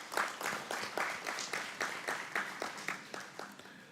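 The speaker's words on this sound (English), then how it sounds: "And so you too deserve a round of applause." Faint, distant clapping from an audience at a memorial lecture, with individual claps coming in a loose, even rhythm.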